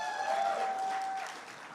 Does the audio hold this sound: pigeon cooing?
no